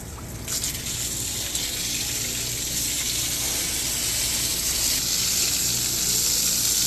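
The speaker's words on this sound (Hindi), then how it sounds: "आदि इधर पानी आ रहा है अंदर" Water running steadily from a hose, a loud continuous hiss and gush that holds even throughout.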